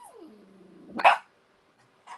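A dog indoors gives one sharp, loud bark after a thin whining tone, then a quieter second bark follows after a pause.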